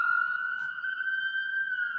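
A police siren sounds outside, holding a steady, moderately loud tone through the whole clip with only a slight wavering pitch and no break.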